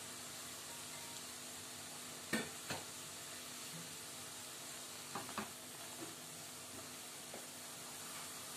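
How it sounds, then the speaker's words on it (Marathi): Chopped fenugreek leaves are stir-fried in a pan over a raised flame, giving a soft, constant sizzle with a few light scraping clicks from the spatula and no talking. "गॅस थोडा मोठा करून मी मेथी परतून घेते।"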